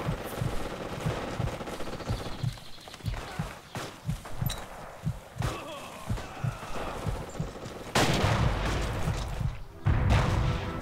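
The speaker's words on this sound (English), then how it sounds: "Oh, that explosion from the grenade on the roof." Forgotten Hope 2 battle audio from Sfakia: rapid bursts of gunfire crack in quick rhythmic volleys, then a heavy grenade explosion booms near the end with a loud sustained roar, loud and close.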